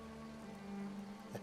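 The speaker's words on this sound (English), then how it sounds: "I'm enjoying the rain." Steady in-game rain in Skyrim hisses and patters in a continuous wash, moderately loud, with a low hum underneath and a brief thump near the end.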